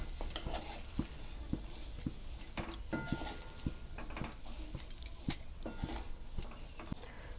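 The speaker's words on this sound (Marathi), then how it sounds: "शेवाया आपल्या छान अशा भाजल्या पाहिजे तुपावरती" Vermicelli is stirred as it roasts in ghee in a pan, with repeated light clinks and taps of a utensil against the metal over a soft low background, close but fairly quiet.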